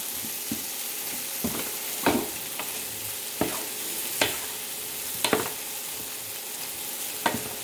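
Rice-noodle pancit bihon and cabbage stir-fry in a pan with a soft constant sizzle, broken by irregular clacks and scrapes of the utensil tossing the mixture, nearby and moderate in volume.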